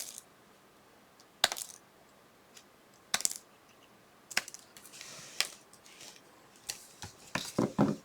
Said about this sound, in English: But I'm going to cut apart these leaves.